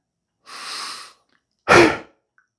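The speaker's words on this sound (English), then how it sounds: "take a deep breath in and breathe out through your mouth as hard as you can" Close-up breathing practice for kettlebell swings: a deep breath in, a short pause, then one loud, forceful, sharp exhale through the mouth, with no talking.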